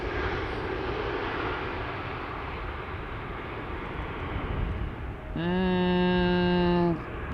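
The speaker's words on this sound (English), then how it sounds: "In-gear touchdown did seem to be a little bit hard." Airplane landing at Amsterdam Schiphol Airport, heard from outside as a steady, loud engine roar and rush of air, ending in a strong, tonal engine whine that swells for a second or two before dropping away.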